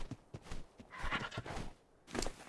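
A horse in Ark Survival Evolved whinnies and snorts while its hooves clip-clop in quick beats, fairly faint and mixed with game ambience.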